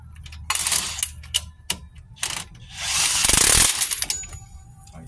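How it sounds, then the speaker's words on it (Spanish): A 22 mm wrench turns and lightly tightens the nut on the front shock absorber of a 2010 Nissan Cube, giving sharp metallic clicks and clinks with a short ratcheting burst close by. "lo enroscamos y pasamos a apretarlo levemente. Utilizamos una llave 22"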